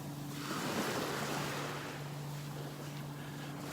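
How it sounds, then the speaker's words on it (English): Waves wash and hiss on a beach in North Naples, Florida, while the low, steady engine drone of a big, fast boat out of Wiggins Pass runs underneath, distant and fairly faint, with some wind noise. "there's a boat racing out of Wiggins Pass up to the north"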